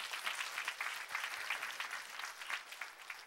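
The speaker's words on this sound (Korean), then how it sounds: "박수로 주님 앞에 영광입니다." A church congregation applauds during a Korean sermon, with dense, steady clapping from many hands that fills the room evenly throughout.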